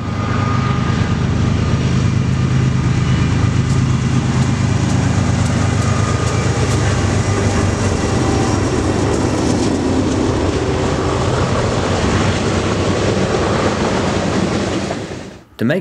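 A loaded ethanol freight train led by diesel locomotives rumbles steadily past at close range, a loud continuous roar of engines and rolling cars that holds for the whole stretch before cutting off abruptly.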